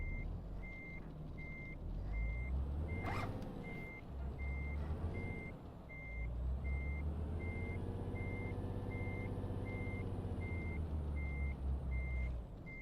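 A truck in Euro Truck Simulator 2 backs up while parking, a steady evenly spaced reversing beep sounding over the low engine rumble, with a brief hiss of air partway through.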